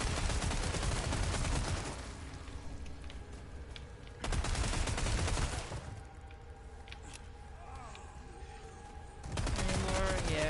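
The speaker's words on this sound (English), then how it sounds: "I'm just gonna have fun with the Tommy gun." Tommy gun fire in Resident Evil 4 comes in three loud sustained bursts of rapid automatic shots, separated by short quieter gaps filled with faint game ambience.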